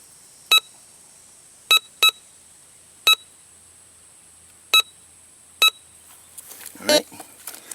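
A Bounty Hunter Quick Draw II metal detector sounds six sharp, close electronic beeps at irregular intervals while a copper coin is held under it, followed by a brief rustle.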